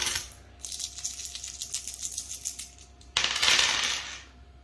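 Dice rattle and clatter across a hard surface in a quick burst, then a second louder roll tumbles and settles.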